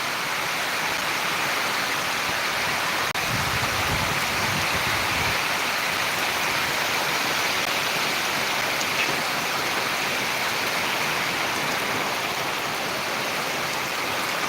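Heavy monsoon rain pours steadily in Buldhana district, a dense, unbroken hiss of downpour that stays loud and even throughout, with no voices.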